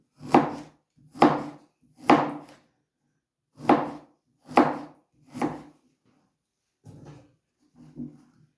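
Six sharp knife chops through quince on a board in an uneven rhythm, then a pause and two fainter chops, with quiet between strikes.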